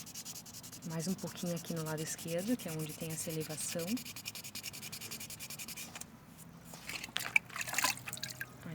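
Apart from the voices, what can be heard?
wet sanding a resin piece with waterproof sandpaper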